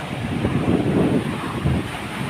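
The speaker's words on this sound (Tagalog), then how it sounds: "medyo maalon po ang dagat" Rough sea at a beach resort in poor weather: steady wind buffeting the microphone over a continuous rush of waves, loud and close, with no voices.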